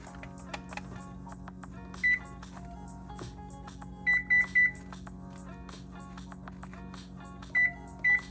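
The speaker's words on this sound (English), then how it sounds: "All right, so the timer just went off for the cookies at 12 minutes." A kitchen oven timer goes off while cookies bake, sounding short electronic beep bursts in several separate groups over a steady low appliance hum.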